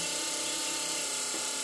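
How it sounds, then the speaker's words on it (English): An oil pump on a turbocharged twin-cylinder Briggs lawnmower engine runs with a steady, dense mechanical whine and hiss, continuous and fairly loud throughout. "That was the oil pump."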